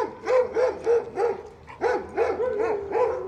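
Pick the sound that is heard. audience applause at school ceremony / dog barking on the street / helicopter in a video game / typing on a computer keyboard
dog barking on the street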